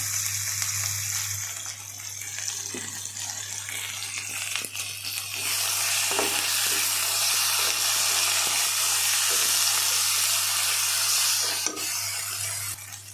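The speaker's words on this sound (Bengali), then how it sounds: "এই যে মশলাটা আস্তে আস্তে করে কষিয়ে ফেলছি" A ground paste of ginger, cumin, garlic, turmeric and salt fries in oil for an egg and eggplant bhuna, giving a steady, close hiss and sizzle that runs the whole time with a few small crackles.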